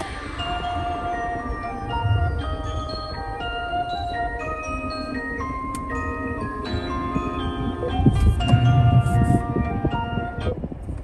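Music from the standard radio of a 2022 Perodua Alza 1.5 AV plays inside the cabin, a steady melodic stream of bright plucked and chiming notes over a soft low backing, moderately loud with no voices.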